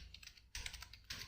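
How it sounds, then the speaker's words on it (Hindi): Keys clatter on a computer keyboard in short bursts of quick, light clicks, close and faint, with no voices. "और यहाँ पे हम टाइप करेंगे"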